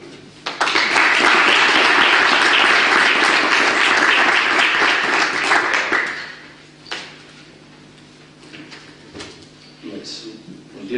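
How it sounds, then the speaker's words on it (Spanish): Conference audience breaks into loud, dense applause that holds for about five seconds, then cuts off sharply, leaving a quiet room with scattered knocks, shuffling and faint hum. "De momento, un aplauso."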